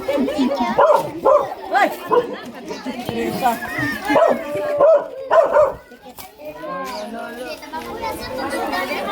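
Dogs bark and yip in a lively home setting, their barks rising repeatedly over a busy mix of children and adult chatter before fading to softer background voices.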